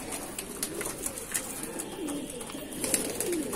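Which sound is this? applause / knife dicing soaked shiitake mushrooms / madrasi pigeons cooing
madrasi pigeons cooing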